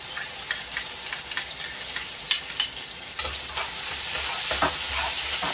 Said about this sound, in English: So in here I get my garlic and my pepper frying up, and my onion and my pepper frying up to my bhaji